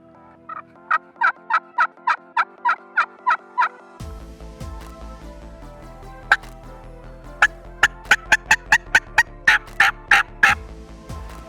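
An Eastern wild turkey longbeard strutting in a field gobbles in two bursts of rapid, loud repeated calls, the second series following a low rumbling background, with no talk.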